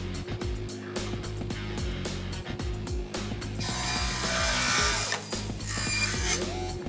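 Panel saw cutting wood pieces in a workshop, a loud mechanical clatter of repeated rapid ticks and knocks followed by a denser, brighter cutting whine in the middle before the clicking rhythm returns.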